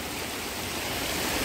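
Water flows continuously through a natural pool in El Salvador, an even, dense rushing wash of moderate loudness with no voices over it.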